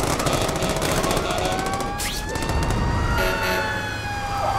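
A fire truck siren in the video game The Amazing Spider-Man 2 wails continuously over loud, dense background noise and rumble, with a sweeping tone rising and falling throughout.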